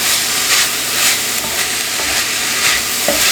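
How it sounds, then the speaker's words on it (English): Seasonings fry with meat, vegetables and beans in one pot for chili mac. A loud continuous sizzle plays up close, with repeated scraping stir strokes about every half second and no talk. "Now you want to stir in all those seasonings and you want to let them start to fry in with your meat and your veggies and your beans."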